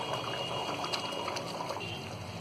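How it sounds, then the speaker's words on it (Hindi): Soaked rice tipped into a pot of boiling water while cooking mutton keema pulao, giving a steady close rush and bubbling of water with no voices. "ये भीगा हुआ चावल है, ये हम इसमें डाल देंगे।"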